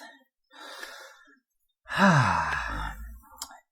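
A person takes a deep breath, a soft inhale followed by a louder, drawn-out sighing exhale close to the microphone.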